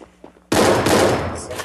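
Automatic gunfire erupts in the Free Fire battle royale game after a quiet lead-in, a loud sustained burst of rapid shots filling the remainder with dense, continuous crackle.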